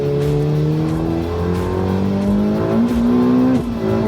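A new supercar that replaced a Lamborghini accelerates hard without wheelspin, its engine note climbing loud and close through the gears with a brief shift before rising again.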